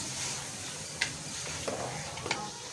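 Ginger garlic paste sizzles in hot oil for haleem, a soft, steady frying hiss with a few sharp clicks and scrapes as it is stirred.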